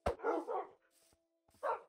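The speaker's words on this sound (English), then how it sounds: "Me and my eight doggos going in on an adventure." Dogs barking in the Minecraft video game: a sharp yelp followed by two short barks, then a quiet pause with faint noises and one more bark, all close and distinct over a faint steady tone.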